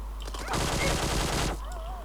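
Rapid automatic gunfire from the PUBG Mobile video game, a dense burst lasting about a second, loud and close, with faint game sounds before and after.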